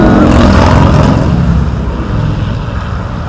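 Harley-Davidson motorcycles pass by on the busy Pantura coastal highway, a loud, dense engine roar washing over the recording and easing slightly as the bikes move away, with traffic noise around.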